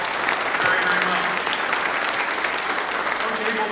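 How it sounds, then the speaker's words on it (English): Steady, dense clapping from a luncheon audience at a Touchdown Club event, a continuous wash of applause at moderate distance with faint crowd murmur mixed in. "Give them a round of applause."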